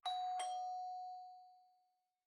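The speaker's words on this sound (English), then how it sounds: "the doorbell rang" A doorbell chimes twice in quick succession, two clear ringing tones that overlap and then fade slowly into silence, followed by a faint low thump at the end.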